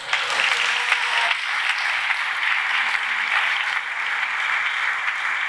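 A congregation at a church sermon claps steadily and vigorously, a dense, continuous wash of applause holding at an even level throughout, moderately loud with no speech over it.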